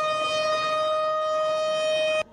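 A tsunami warning siren sounds during a disaster simulation in Denpasar, Bali, a loud, steady sustained wail holding one pitch before cutting off abruptly near the end.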